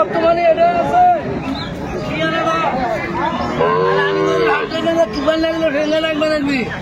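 A Sahiwal cow moos at a busy cattle market, several long low calls rising over crowd babble and close, loud talking voices.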